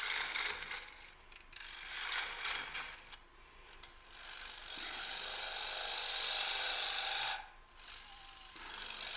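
A gouge with its bevel rubbing cuts wood on a lathe while a three-legged bowl is turned, giving a close, rasping scrape that swells and fades in uneven passes against a faint motor hum.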